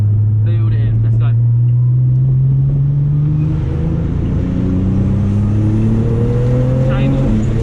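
A Nissan GT-R accelerates on a track, its engine note rising steadily through the gears with a loud, close, continuous drone, while an instructor talks over it.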